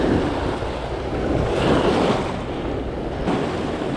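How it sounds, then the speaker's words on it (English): Choppy ocean surf pounding a California fishing beach, a loud continuous wash of breaking waves with a swell near the middle, mixed with wind buffeting the microphone. "These waves are pretty choppy. They're hitting kind of hard."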